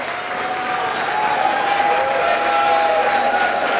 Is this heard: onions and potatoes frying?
no